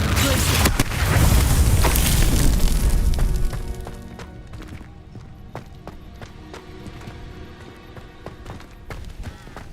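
Confringo spell explosions in Hogwarts Legacy: a heavy blast booms loudly in the first few seconds, then fades into scattered sharp impacts and clicks over a quieter game background.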